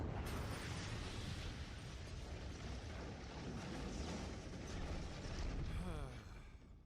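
Video game grenade explosion: a broad, sustained roaring blast that fills the clip at steady loudness, with crackling debris and a brief mechanical chatter near the end as it fades.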